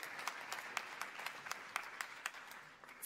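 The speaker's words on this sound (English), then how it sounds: "let's give them one last round of applause." An audience at a Chicago museum event claps in a thin, scattered round of applause, with a few sharper individual claps standing out and no talk over it.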